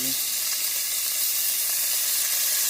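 Eight slices of bacon sizzle steadily in a frying pan, a dense, even hiss of fat crackling close up, with no talk over it.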